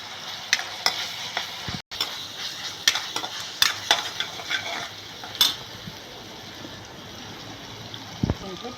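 Fenugreek, ginger and garlic fry in oil with a soft continuous sizzle, punctuated by sharp clanks and scrapes of a spoon against the pan, close by.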